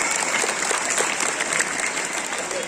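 Schoolchildren clap loudly and continuously at a school prize-distribution ceremony, a dense, steady burst of applause throughout with no voices on top.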